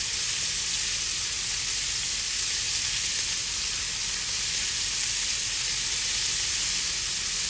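Shrimp fry in hot bacon grease in a pan, giving a steady, close, bright sizzle that holds evenly throughout with no voices.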